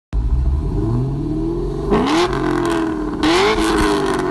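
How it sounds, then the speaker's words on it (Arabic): A car fitted with an X-Force exhaust and full air intakes idles loudly up close, then revs sharply twice, each rising blip followed by a rumbling fall back to idle. "وهذا صوت الاكس فورس مع الكوكس."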